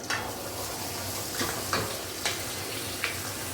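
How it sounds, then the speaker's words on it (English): Scrambled eggs frying in hot bacon grease in a pan make a steady, close hiss, broken by a few soft scrapes and light clinks of stirring. "And then you scramble your eggs."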